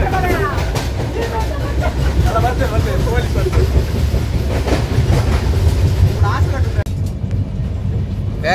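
A train rolls along the rails with continuous rumbling and rhythmic clatter, loud and close, while people talk over it throughout.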